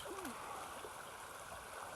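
A hiker in Crocs wades through a creek ford where there is no bridge, with quiet, faint flowing and splashing water and a brief low voice early on.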